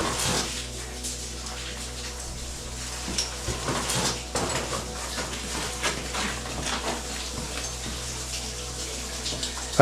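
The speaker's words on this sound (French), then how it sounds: "au fond duquel coule un petit ruisseau" A small stream flows along the bottom of a narrow meander in the Gouffre de la Sonnette cave, giving a steady, close rush of trickling water with no voices.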